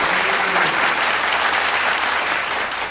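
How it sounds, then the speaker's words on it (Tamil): Loud, sustained applause from a large audience filling an auditorium during a Tamil stage comedy talk, dense and steady throughout without a break. "2 நிமிஷம் ஆகும் உங்கள் கைத்தட்டு நிற்கிறதுக்கு."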